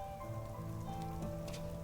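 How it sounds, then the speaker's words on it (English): Steady rain in the video game Night in the Woods, an even wash of falling drops with a faint tonal hum of in-game music underneath. "It's wet again, and I'm cold again. It's just rain."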